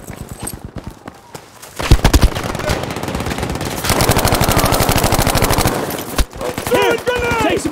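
Machine gun fire in the Battlefield 5 video game, rapid sustained bursts of automatic shots, loud and close, broken by short gaps, with other battle noise and voices mixed in.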